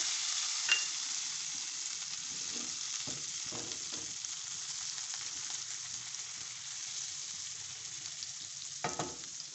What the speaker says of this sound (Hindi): इसमें अब मैं डालूँगी ये 15 ग्राम बटर। इसको अच्छी तरह से मेल्ट करके